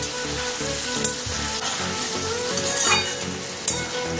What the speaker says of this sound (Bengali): জল দিয়ে ভালো করে আবার একটু কষিয়ে নেব।